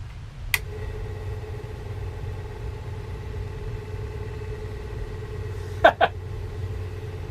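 A NuTone Verandah Deluxe ceiling fan and a friction drive ceiling fan running together make a low steady motor hum with a faint whine, broken by a click early on and a sharper double clack near the end.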